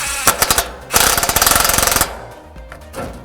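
A power driver sets a screw into a Leviton structured media center enclosure, a short pulse followed by a rapid rattling burst of clicks about a second long, close and loud, with a few lighter taps after.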